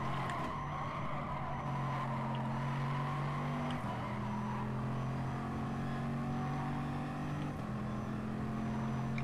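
A howling naturally aspirated V12 race car in GT Sport revs at a steady high pitch, stepping through gear changes about every four seconds, loud and continuous with no voices.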